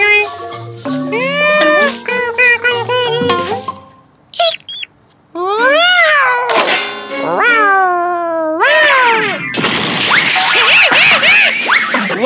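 A cat meows repeatedly in drawn-out, rising and falling cries, close and loud, with a brief pause midway before longer, harsher yowls.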